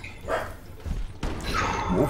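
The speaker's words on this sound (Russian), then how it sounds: "Простите, это у меня собака, если что." A real dog barks in the room during an Overwatch match on Eichenwalde, a few short yips and woofs close to the microphone over game sounds, with a voice talking briefly.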